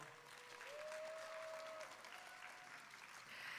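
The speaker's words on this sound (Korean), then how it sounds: "다시 한번 큰 박수 부탁드리겠습니다." Faint applause from the audience at a senior pageant awards ceremony, an even, distant wash of clapping with a brief tonal whistle-like sound over it early on.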